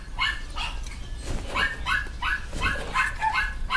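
A dog barks repeatedly in quick, yipping bursts, fairly close, with short gaps between barks and no talking.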